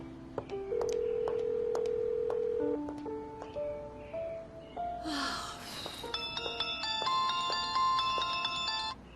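A phone rings repeatedly, waiting to be answered: a steady electronic ringtone plays alone with no voices, its pattern shifting partway through to a brighter, busier run of tones.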